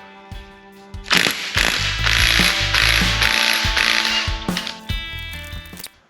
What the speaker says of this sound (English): I need to go ahead and pull this cam gear